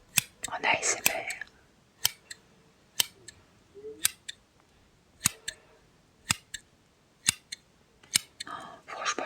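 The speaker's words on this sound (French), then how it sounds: "quel son faisaient les ciseaux." Sharp, crisp scissor snips repeating at an irregular pace during cross-stitch work, close up and quiet, with soft whispering at the start and end.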